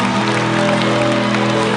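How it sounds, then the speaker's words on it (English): A live audience at a morning television broadcast in Ghana applauds steadily, a dense wash of clapping holding at one level throughout, with music or a tonal hum underneath. "Come on, give a round of applause."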